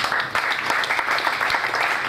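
Dense clapping from a church congregation at a workers meeting fills the room steadily and loudly for a couple of seconds, with faint voices mixed underneath.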